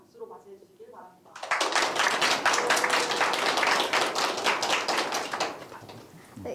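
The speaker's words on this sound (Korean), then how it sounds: "김석훈 교수님을 큰 박수로 맞이해 주시길 바랍니다" An audience bursts into loud, sustained applause for a professor at a university talk concert, dense clapping that swells quickly, holds for several seconds, then slowly thins; a voice is heard briefly at the start.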